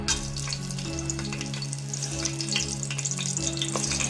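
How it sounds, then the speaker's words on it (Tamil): Whole cinnamon, clove and cardamom fry in hot oil in a pressure cooker on a gas stove for potato peas pulao, making a close, steady sizzle with soft crackles and a faint low hum. "பட்டை லவங்கம் ஏலக்காவை போட்டாச்சு"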